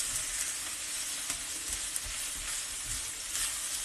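Onions, cloves and spices frying in a hot pan for a creamy chicken korma, giving a steady, close sizzle with soft stirring scrapes and a few small pops, and no talk.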